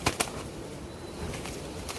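Restless racing pigeons flap their wings in two quick bursts at the start and another near the end, close by over a steady background hum.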